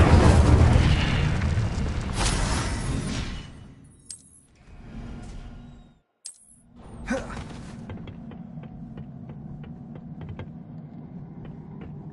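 A fire spell blast in Hogwarts Legacy: a loud roaring, booming burst that fades over a few seconds, a brief pause, then a second flare followed by a steady crackling rumble with faint ticking.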